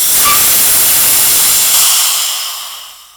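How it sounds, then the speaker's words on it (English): Pressurized gas hisses out of a metal bottle in a loud steady rush, holding strong for about two seconds before tapering off into quiet. "So first we have to release the pressure."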